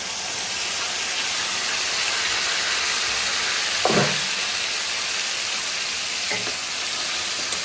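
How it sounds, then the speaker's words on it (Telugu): Onions, green chillies and tomatoes fry for a curry in a steady, close sizzle that hisses on throughout, with two brief stirs or additions briefly lifting the sound partway through. "ఇదిగోండి ఉల్లిపాయ కూడా వేగిపోయినాయి పచ్చిమిర్చి ఉల్లిపాయ ఇప్పుడు టమాటా వేసుకుంటున్నాం"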